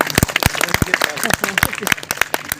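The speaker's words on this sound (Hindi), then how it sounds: "एक बार आप अपने लिए ताली बजा लीजिए" Applause from an audience at a National Press Day journalists' event in India: a sparse, uneven patter of sharp hand claps from a modest crowd, close and fairly loud.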